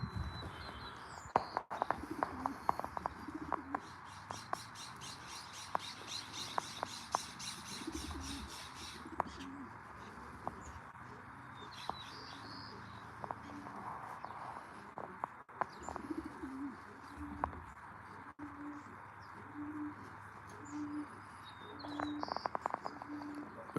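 Racing pigeons coo in low repeated throaty calls near a loft, with bursts of chirping and occasional wing flaps across a long stretch, no voices.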